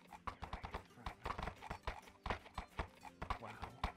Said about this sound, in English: At least I have a horse.